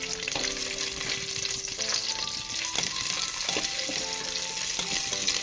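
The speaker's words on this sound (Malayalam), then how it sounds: "അതിനകത്തേക്ക് തന്നെ ക്യാഷ്നട്ടും കിസ്മിസും നമുക്കൊന്ന് ഫ്രൈ ചെയ്തെടുക്കാം" Cashews and raisins fry in hot oil for egg biryani, a steady close sizzle running throughout with occasional spoon scrapes against the pan.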